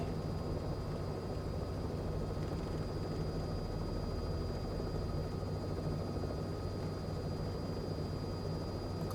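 A simulated Robin helicopter in Microsoft Flight Simulator 2020 drones with a constant, even rotor and engine roar, steady and unbroken throughout.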